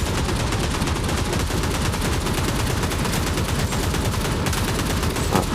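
Gunfire in the World War Heroes shooter game, dense rapid automatic bursts running continuously and loud, dominating throughout.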